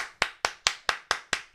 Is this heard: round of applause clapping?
yes